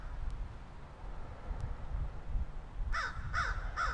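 A crow caws three times in quick succession outdoors, fairly near, over a steady wind rumble.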